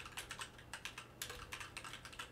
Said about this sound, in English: Sorry, I'm very slow at typing today.